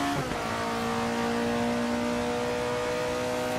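An Alfa Romeo 33 Stradale engine in Assetto Corsa pulls hard under open throttle, a steady, loud, close mechanical drone with a strong tonal whine that holds and climbs gradually without a break, with no voices.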